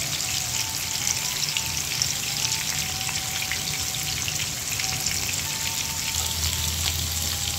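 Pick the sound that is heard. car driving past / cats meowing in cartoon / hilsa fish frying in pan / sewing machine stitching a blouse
hilsa fish frying in pan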